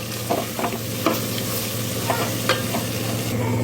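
Garam masala and chicken masala spice powders frying in oil sizzle steadily while a spoon scrapes and stirs the pan in several brief strokes; no speech.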